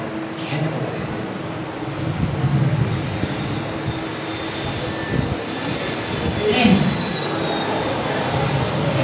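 An aeroplane's engine gives a steady, broad roar, close and fairly loud, holding for several seconds with a slight swell and no voices.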